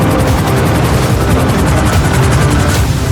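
A video-game helicopter roars in a dense, loud, steady wash, mixed with bursts of gunfire in a soldiers' shootout.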